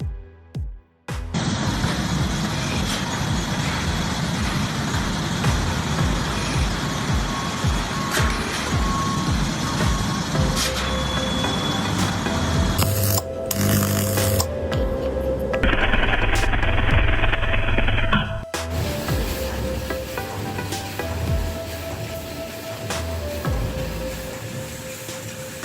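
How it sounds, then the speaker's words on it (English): Roadside tree and vegetation clearing machine running its cutter, a loud continuous mechanical roar and grinding with shifting engine tones, a brief high-pitched whine partway through and a change in pitch toward the end. "This machine is designed to clear trees and thick vegetation along roads. Its powerful cutter works continuously"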